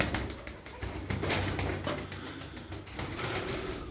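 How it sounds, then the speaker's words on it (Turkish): Taklacı tumbler pigeons in flight, with quick wing flaps and faint cooing over a steady outdoor background noise that carries on throughout. "Kuşlarımız güzel. Kanat veriyorum ki bakın arkadaşlar, iniş kalkış."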